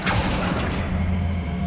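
The Accio summoning spell in Hogwarts Legacy sounds as a quick, bright whoosh with a burst at the start. It fades out over about a second above a low rumbling background.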